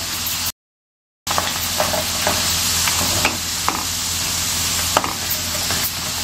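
Garlic crisping in hot oil for tomato pickle gives a steady, close, loud sizzle with small crackles and occasional stirring scrapes; a short dead gap near the start, then continuous frying without any voices.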